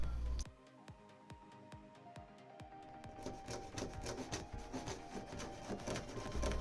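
Acrylic one-way mirror sheet being cut into squares, first a run of sharp evenly spaced clicks, then a denser rough scraping grind that carries on to the end, close and steady.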